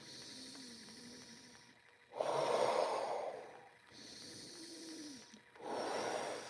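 Slow meditative breathing, with a soft inhale followed by a long, broad, airy exhale out of the mouth, heard twice in a steady rhythm, close and fairly loud, with a quiet tone underneath.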